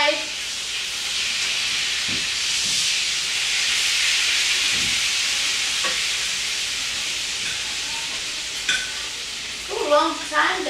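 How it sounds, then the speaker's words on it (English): Food frying in a pan with a loud, continuous hissing sizzle throughout, a few soft clinks and utensil taps, and brief voices near the end. "You can fry."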